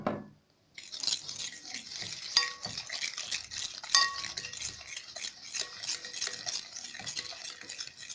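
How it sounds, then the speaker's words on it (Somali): Sugar and eggs being stirred together by hand for biscuit dough, with a steady scraping, clinking whisk or spoon against a bowl, close and continuous, with a couple of sharper knocks on the bowl rim. "sokortii waxaan isku dhalaalinaynaa iyo ukunta"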